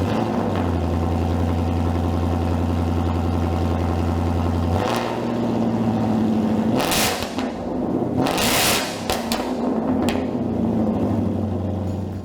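A 2018-2023 Ford Mustang engine with an MBRP Black Series cat-back exhaust idles with a loud, steady drone, then gives a few sharp revs that rise and fall.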